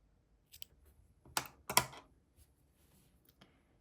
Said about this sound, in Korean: 이 상태에서 가위로 조금만 남기고 잘라주세요.